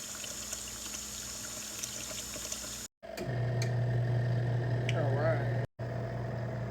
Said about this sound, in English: And still filling up with water.